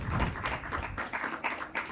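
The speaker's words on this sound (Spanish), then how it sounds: "¿Por qué no le da una ofrenda de palmas al Rey de todo corazón?" Church congregation clapping together, a steady patter of many hands with rhythmic bursts, moderately quiet and without talk.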